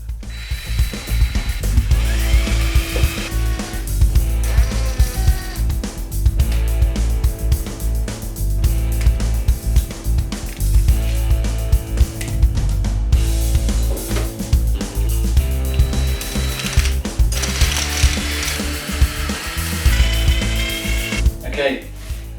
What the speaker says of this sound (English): And then drill the holes.